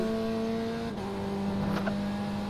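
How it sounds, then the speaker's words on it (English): Race cars in the iRacing video game at Daytona, a steady droning engine tone that shifts pitch midway as a car passes, with a faint rattle and no talking. "I want to keep hearing the cars."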